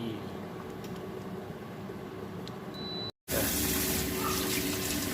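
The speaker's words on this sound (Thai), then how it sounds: "ล้างผ่านน้ำเย็น" Food is rinsed under cold tap water in a late-night kitchen, a steady close hiss of running water that cuts out briefly and then returns louder.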